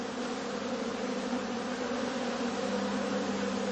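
Honeybees buzzing around straw skep hives on heathland in late autumn, a steady, even drone holding without pause at low volume, no voices.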